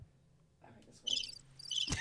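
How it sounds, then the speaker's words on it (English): A cricket-chirp sound effect fires from a button during a party game, giving short high trilling chirps over a faint background, ending with a brief thump. "Crickets."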